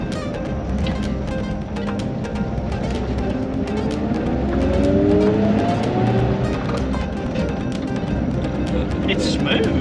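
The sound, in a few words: old straight-eight car driving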